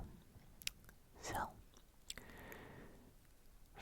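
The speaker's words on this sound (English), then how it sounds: "And of course, there will be gum chewing as well." Close, soft wet chewing of Orbit gum, a few squishy bites and smacks in a quiet setting, with faint breathy whispering now and then.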